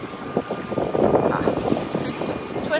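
A sailboat's engine runs at sea at dawn while crossing the Bay of Biscay, giving a steady, moderately loud drone mixed with wind and water noise.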